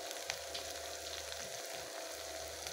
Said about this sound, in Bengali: এবার এটা কষিয়ে দিয়ে দেবো গুঁড়ো মশলাটা, নুন,